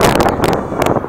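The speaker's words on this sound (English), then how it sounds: "it's windy as hell out here" Wind buffets an outdoor camera microphone in heavy, rumbling gusts, loud and close, with bursts of rustling hiss, continuous throughout and without talk.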